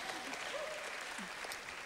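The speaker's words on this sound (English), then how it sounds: "that deserves a clap just for getting that out." Church congregation applause at a Hillsong Church London service, a steady wash of clapping with faint voices mixed in, moderately quiet and continuous throughout.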